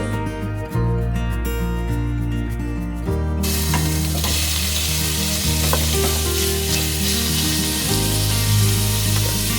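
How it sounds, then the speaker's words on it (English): Loud, steady sizzling of beef frying in olive oil for a Guinness stew, with a continuous hiss and crackle and low background tones throughout. "Nice bit of sizzle going there."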